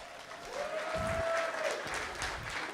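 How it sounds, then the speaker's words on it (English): Wedding guests applaud the toasts with a soft, fairly distant patter of clapping that holds steady through the moment, with a faint tone ringing briefly above it. "one more round of applause for those toasts."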